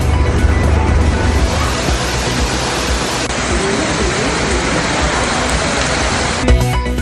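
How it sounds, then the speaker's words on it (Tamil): Heavy rain pouring down in Argentina, a loud, dense, unbroken hiss of falling water mixed with deep low rumble, continuous and close throughout. "ஒரு ஆண்டில் பெய்ய வேண்டிய மழை ஒரே நாளில் பெய்ததால் மிதக்கும் குடியிருப்புகள்."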